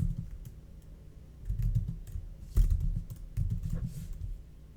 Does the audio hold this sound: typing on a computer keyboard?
yes